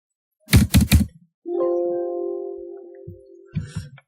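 A computer keyboard is used to type into a spreadsheet: three quick, sharp key clacks close up, then a sustained steady tone, then a few more clicks at the end.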